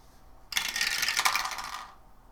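A die clatters and rattles across a tabletop during a game session, a close, bright rolling burst that lasts about a second and a half, then stops abruptly.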